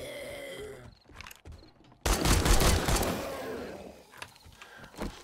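Rapid bursts of gunfire in 7 Days to Die Alpha 20: a loud, sustained volley breaks out suddenly after quiet ambience, then tapers into scattered shots, with one last sharp shot near the end.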